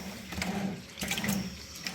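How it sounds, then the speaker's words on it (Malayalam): Rice is washed under running water in a home kitchen, a close splashing trickle of water flowing steadily over the grains for a brief moment. "അരി കഴുകിയിട്ടെ"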